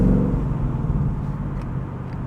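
Ford Mustang GT V8 with a 7,400 RPM redline, in a 2020 convertible Performance Pack with a six-speed manual, revving with a steady loud rumbling drone close by, no talking.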